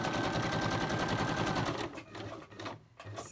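A sewing machine runs steadily as it stitches fabric, a fast even whir for nearly two seconds before slowing and stopping, followed by a few soft handling sounds.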